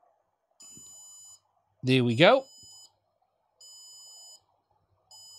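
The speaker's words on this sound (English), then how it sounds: "the goggles will start to beep to tell you that the update has started" Walksnail Avatar HD FPV goggles emit a firmware-update tone: evenly spaced, sustained electronic beeps, each lasting under a second, repeating several times. Someone speaks briefly between them.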